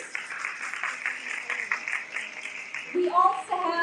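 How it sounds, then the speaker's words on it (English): Audience applause at a Miss Universe talk event, a moderate patter of clapping that carries for a few seconds before a voice begins speaking over its tail end. "A round of applause, please."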